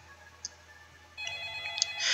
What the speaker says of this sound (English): As soon as I got home, the phone rang.